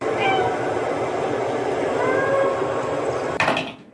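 A realistic cat meow sound effect plays from a video game's built-in meow command, heard as soft mewing calls over a steady background rumble, followed near the end by a brief sharp noise burst.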